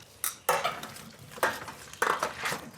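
Salted potatoes being mixed with oil in a metal pan: a few clattering, scraping strokes of a utensil, close and fairly crisp, with no talking.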